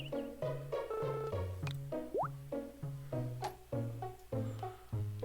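Watering a crop in the farming game Harvest Moon Sunshine Islands, heard as a short rising splashy blip over steady, bouncy game background music with repeating plucked notes.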